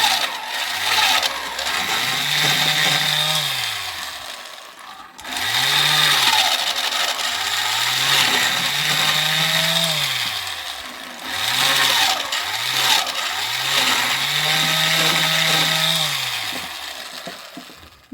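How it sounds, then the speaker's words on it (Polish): A vintage EHWE-SUPER B10S electric drill made by Ehlermann & Weckmann, running at much reduced voltage: a whining motor that winds up and down in three long bursts with brief pauses between them, close and fairly loud. "Pokażę wam jeszcze szybko, jak wiertarka działa po zmontowaniu, ale uruchomiłem ją tutaj na znacznie obniżonym napięciu"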